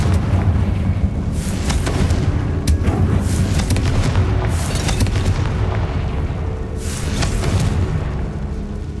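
Confringo fire spell blasting in the Hogwarts Legacy video game: loud, continuous rumbling booms fill the whole stretch, with several sharper explosive bursts rising out of the roar.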